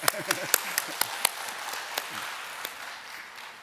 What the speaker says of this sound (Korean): 박수 치랍니다.